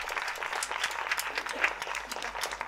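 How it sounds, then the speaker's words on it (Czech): Audience applause at a Czech literary festival workshop showcase, a moderate, steady patter of many hands clapping at mid distance, continuous for a few seconds with no voices. "Tak potlesk pro Ruth"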